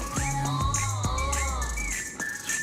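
Someone whistles a quick, bouncing melody with sliding notes, clear and close, over a low background hum.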